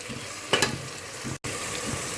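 Tomatoes sautéing in a pan for chicken biryani, a steady close sizzle with a brief louder burst of stirring and a momentary cutout, no talking.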